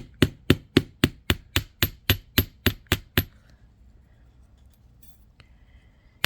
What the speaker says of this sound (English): Now this is a chasing hammer.